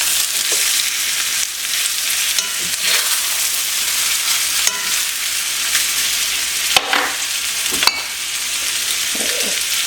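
Food fries in hot oil in a pan with a steady, loud sizzle and crackle that runs throughout, broken by a few brief clacks and shifts of the pan.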